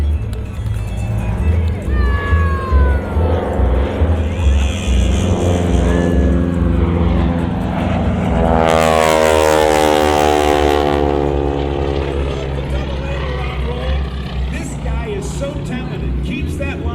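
A Super Stearman biplane's radial engine drones close by during a low airshow pass, swelling into a loud roar midway and fading again, while an announcer talks over it.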